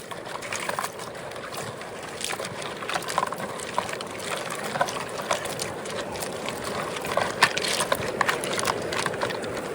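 Grass root mats are swished and scrubbed in river water while prospecting for gold on the Truckee River, giving close, irregular splashing and sloshing with light wind noise.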